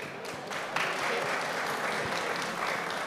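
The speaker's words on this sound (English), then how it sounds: "Big round of applause." An audience at a digital health panel discussion claps steadily and loudly in a dense, continuous burst that carries on throughout.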